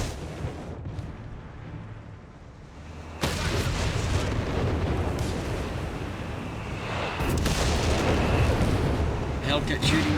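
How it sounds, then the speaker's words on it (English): A 17 pounder gun firing from a Panther tank in Company of Heroes 3, one sharp booming blast that cuts in over quieter battle ambience and then rolls into sustained rumbling combat noise, with commentary talk underneath. "Great shot for the 17 pounder gun on the Panther 4."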